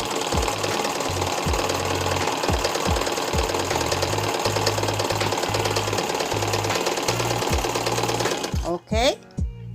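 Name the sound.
sewing machine running, operated with electric foot pedal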